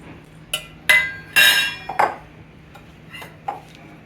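Wonton filling is stirred in a bowl, with a spoon clinking and scraping against the dish in several sharp, close knocks and one short rattling scrape, and quiet gaps between.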